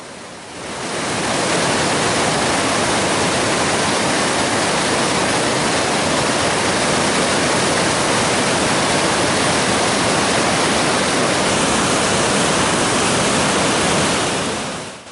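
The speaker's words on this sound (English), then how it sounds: "we landed beside a river that tumbled down to the fjord over multiple waterfalls" A river tumbles over several waterfalls down into an East Greenland fjord in a hidden valley, making a loud, dense, unbroken roar of rushing water that stays constant throughout.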